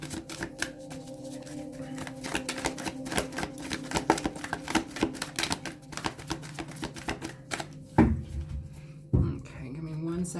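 A very large tarot deck is shuffled by hand, making rapid irregular clicks and riffling flutters close to the microphone, with a couple of sharper knocks near the end.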